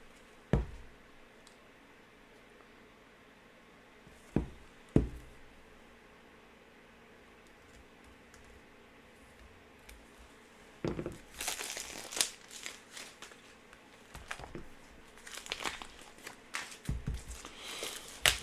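Unboxing of the Warhammer Quest board game: scattered taps and knocks on the box, then a long stretch of loud crinkling and tearing of plastic wrap and packaging up close.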